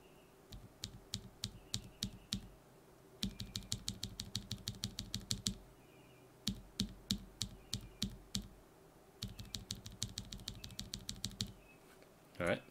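Lubed and filmed mechanical keyboard switches are typed on in bursts of quick, close, crisp clacks separated by short pauses.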